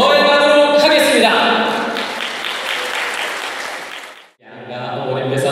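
Wedding guests applaud in a loud, dense burst of clapping that follows a brief voice and music, fades off, cuts out briefly, then resumes strongly.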